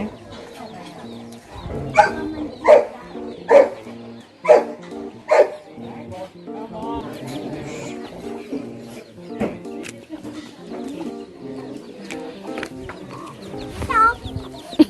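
Free-range chickens cluck and squawk in short bursts over a busy outdoor farm-style cafe backdrop in Chiang Mai, Thailand, with a dog barking several times early on and people talking throughout.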